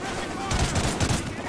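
Call of Duty Ghosts campaign gunfire crackles in quick overlapping bursts, moderately loud, with a fast volley in the middle, and a voice talks underneath.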